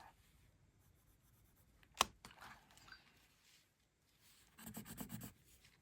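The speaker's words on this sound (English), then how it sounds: "Just gently shading over this." A pencil scratches softly across shrink plastic in gentle shading strokes: a sharp tap, brief scratchy passes, then a run of quick rhythmic rasping strokes close to the microphone, all faint and without talk.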